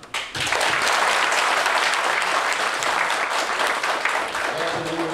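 An audience at a formal ceremony for a bus labour agreement breaks into loud, sustained applause that fills the room steadily from start to finish.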